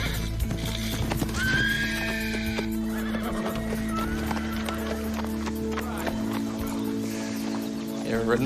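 A large horse near a riding stable whinnies and neighs while its hooves clip-clop, the neighs rising clearly over steady hoofbeats, with people talking nearby.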